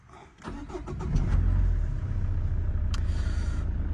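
A Citroën Xantia engine cranks briefly, catches, then settles into a steady low idle that carries on to the end.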